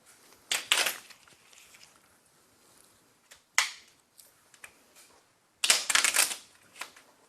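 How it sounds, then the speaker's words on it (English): Quick riffle shuffles of playing cards come in bursts of crisp fluttering clicks, with a brief snap between them and quiet handling in the pauses. "You take the cards, shuffle the cards up, and give them a good shuffle."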